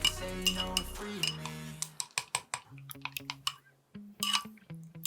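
Egg yolk and milk being mixed in a bowl: a utensil clinks against the dish in quick, irregular taps, following a brief stretch of tonal background sound.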